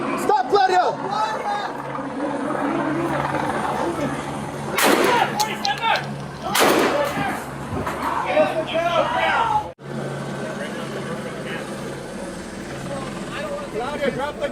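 Police officers opening fire during a bodycam chase, two sharp, loud gunshot cracks a couple of seconds apart amid shouting voices and a steady background rumble.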